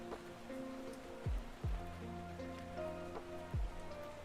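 Soft, steady rain patter fills the background as a continuous cozy wash, with a faint tonal music-like layer and a few low thumps over it; no talk.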